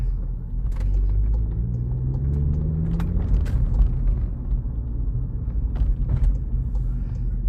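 A Volkswagen Polo 6C GTI engine rumbles steadily at low speed, a deep throaty drone with a few light clicks and knocks over it.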